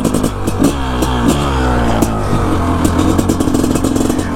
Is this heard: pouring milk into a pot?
no